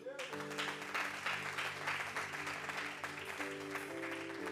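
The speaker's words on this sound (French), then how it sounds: "Acclame Jésus" A church congregation applauding, a steady wash of clapping from many hands that continues throughout, with voices mixed in.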